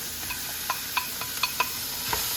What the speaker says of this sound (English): So now I sear for about 2 more minutes, and then I throw all my seasoning in